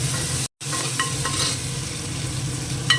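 Ginger and tomato frying in a home kitchen pan give a steady, close sizzle with light stirring scrapes, running unbroken apart from a brief dropout near the start.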